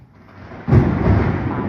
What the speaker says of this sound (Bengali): কি বৃষ্টি হলো, কি আকাশে বিদ্যুৎ চমকাচ্ছে পুরো